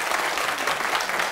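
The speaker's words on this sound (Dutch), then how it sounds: "Geef ze een applaus." A studio audience at a 1990 Dutch television show applauds as two guests walk on, steady dense clapping filling the short stretch at a loud, even level.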